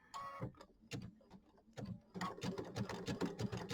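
A sewing machine zigzag-stitches binding onto a mini quilt, running in short bursts with pauses, then a steady rapid chatter of needle strokes, close and clear.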